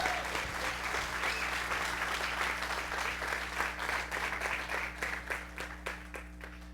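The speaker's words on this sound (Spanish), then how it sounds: "Dele palmas al Señor, hermano, aleluya." A church congregation breaks into sustained applause during a Spanish-language sermon, dense clapping from many hands that holds steady and then thins out into scattered claps near the end.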